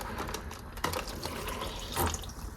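Water, 100 ml, poured into a container for a vegan tactical ration pack, a quiet continuous trickle with faint splashy bursts, close and alone.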